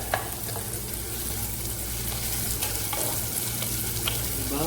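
Garlic and onion sautéing in a pan for chicken wings adobo, a soft, constant frying hiss with a few faint scrapes of stirring, fairly quiet and without voices.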